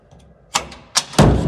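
An old 1960s Vaim elevator door in a Rome building, banging shut: a couple of hard metallic thuds followed by a heavy, reverberant slam that rumbles on, loud and close.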